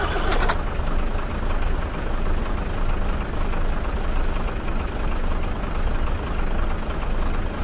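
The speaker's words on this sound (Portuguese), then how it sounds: "ligando o motor do busão aqui para nós" A Marcopolo G4 6x2 coach bus engine in Euro Truck Simulator 2 turns over and settles into a steady, loud, rumbling idle that holds unbroken throughout.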